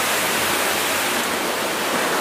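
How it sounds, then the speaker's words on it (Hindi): Fast-flowing water rushing below a Shiva temple at Gumargunda on the Bijapur road in Dantewada, heard as a steady, loud broadband roar with no pauses and no voices. "नीचे बहता हुआ कलकल पानी जो कि बहुत रफ्तार से बहता हुआ दिख रहा है"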